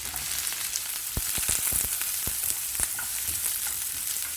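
Onions and green chili fry in sesame oil in a kadai, hissing in a steady close-up sizzle broken by several sharp clicks from stirring.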